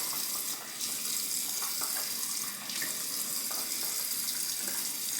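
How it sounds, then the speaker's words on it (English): Warm tap water runs steadily into a sink before shaving lather is built, a continuous close splashing hiss with small fluctuations and no speech. "Let's get some warm water on the face"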